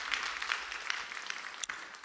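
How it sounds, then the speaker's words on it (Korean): A congregation at a New Year fasting revival dawn service gives a round of applause in church, heard as a faint, even rustle of many hands clapping with one sharp click near the end. "영광의 박수 한번 다시 하실까요?"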